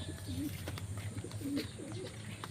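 Pigeons coo in low, soft, rolling calls, about three distinct coos over a faint, steady background.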